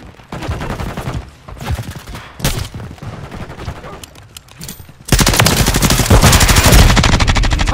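Machine gun fire in Modern Warfare 3 multiplayer, scattered loud bursts at first, then a sustained heavy barrage of rapid shots in the final seconds.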